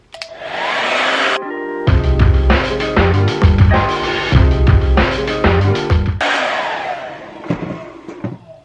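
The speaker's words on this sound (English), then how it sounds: "I straightened it out, you know, got rid of all the curls and just like blow dry straightened it." A handheld hair dryer blows loudly and continuously close by as hair is brushed straight. The whirring tone shifts and wavers partway through, then returns to an even rush before cutting off.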